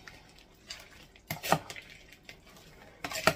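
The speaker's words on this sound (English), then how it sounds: "And we're going to get this stirred up." A utensil stirs Italian dressing into a pickle sub filling in a bowl, giving a few close, quiet clinks and scrapes spread across a few seconds.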